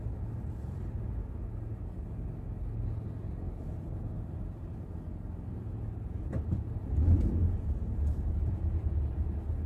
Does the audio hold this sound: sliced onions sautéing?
no